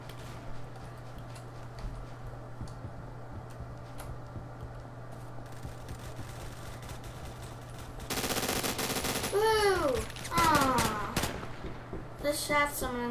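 Gunfire from the Roblox shooter Phantom Forces: quiet clicks and a steady hum, then a dense burst of automatic fire followed by rising-falling whooshing effects and more rapid shots, loud and close.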